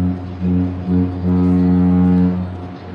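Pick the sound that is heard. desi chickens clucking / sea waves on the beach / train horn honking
train horn honking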